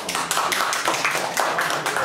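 Scattered, fairly close claps from a small crowd at a live concert, a brief irregular patter of hand claps without talk.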